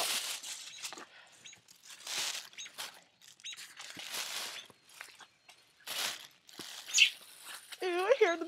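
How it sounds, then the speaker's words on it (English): Small birds chirping from a nearby nest, a few high, quick tweets rising late in the sequence, mixed with rustling, breathing and muffled movement close to the listener. "I hear them tweeting. I think there's a nest"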